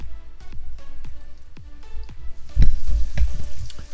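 Flour- and cornstarch-coated chicken wings hit hot oil in a pan one after another with soft thuds, then a loud, steady sizzle and crackle swells up.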